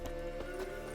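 Rhythmic clip-clop of the horse Roach's hooves in The Witcher 3: Wild Hunt, a few steady close hoofbeats over a droning music bed.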